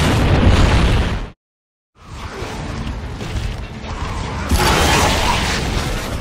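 A modified smoke grenade in Gears of War 2 explodes among loud battle noise: a dense blast rumbles, cuts to a brief silence, then another heavy burst of booming, crackling combat sound rises and stays loud to the end.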